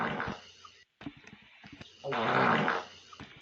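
A recorded fart played back on a podcast, a few raspy, sputtering bursts with a short gap of silence, then a longer, louder, buzzing blast.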